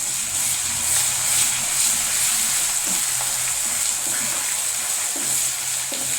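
Ginger garlic paste fries with onions in a pan, giving a loud, close, steady sizzle with occasional faint stirring clicks and no talking.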